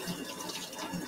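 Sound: tap water running while rinsing a knife

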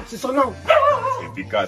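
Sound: dog barking

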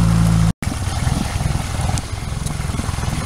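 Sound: Yamaha F60 outboard boat motor running

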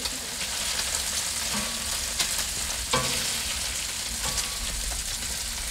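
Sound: bacon frying on a Blackstone griddle

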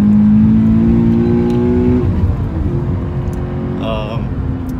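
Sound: Toyota GT86 2018 car engine

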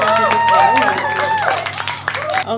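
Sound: children clapping hands

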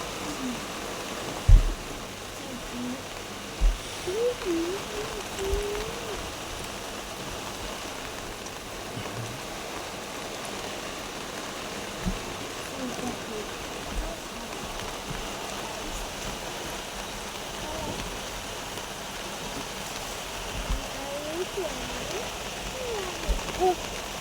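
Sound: heavy rain

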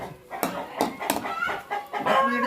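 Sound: chickens clucking

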